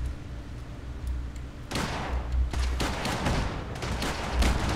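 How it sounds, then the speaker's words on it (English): Incendiary laser pistols fire in Fallout 4, mixed with other combat. Rapid bursts of shots crackle repeatedly and fairly loud over a busy background. "These are laser pistols that set people on fire when you shoot at them."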